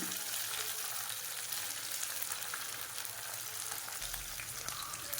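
Eggs frying in a pan as they are turned over for an egg curry, a steady close sizzle running throughout with no talking.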